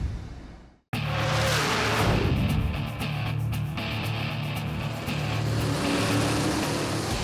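Drag race cars roaring at full throttle at Bristol Dragway during the Wix Filters All Out 16, a loud, sustained engine blast that cuts in abruptly and holds steady with pulsing grit.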